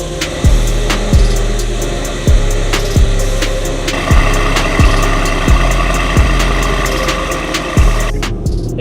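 A Mercedes-AMG E63 S fitted with PTG carbon fiber intakes pulls away from a shop, a loud close engine roar that rises through repeated gear shifts, each one marked by a brief dip in pitch, with no talking.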